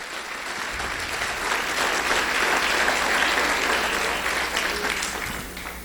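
A church congregation applauds, a steady, dense wash of many hands clapping that swells and holds throughout, fairly loud and without a break.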